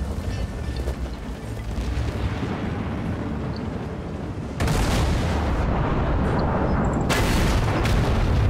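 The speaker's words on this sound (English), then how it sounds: "he's fire high explosive anti-tank" Tank gunfire in World of Tanks, a heavy IS-4 battle with high-explosive anti-tank rounds; dense, continuous rumbling blasts that swell sharply louder near the middle, with booming shots stacked over a constant roar.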